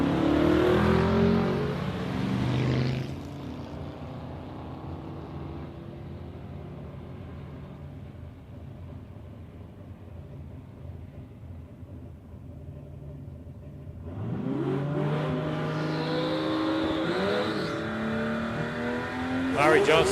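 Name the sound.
drag race cars, Holden Statesman versus Ford XC Falcon, accelerating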